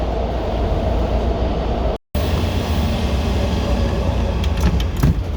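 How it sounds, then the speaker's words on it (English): A steady, loud rumble and rush of a Washington Metro train pulling into Potomac Avenue station, with faint squeals and clatter near the end. "And that train just pulled in to block my shot."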